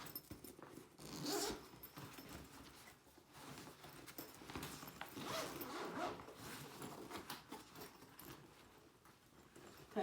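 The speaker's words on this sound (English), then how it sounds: "I've just undone that bottom zip." A zip being undone on the extension of a travel weekend bag, a faint rasping pull in a few short bursts, close and quiet with soft handling noises around it.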